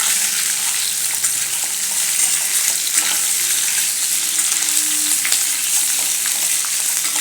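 A jowar breakfast mixture is stirred in a hot pan, giving a steady, close sizzle with soft scraping throughout and no voices.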